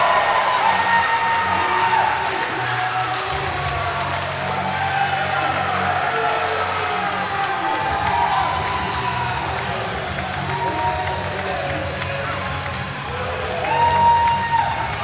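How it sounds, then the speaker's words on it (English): A wrestling arena crowd roars and cheers after a three count ends a heavyweight bout, a loud sustained wash of cheering, whoops and shouting that swells and lingers throughout, with faint voices mixed in. "Listen to the crowd."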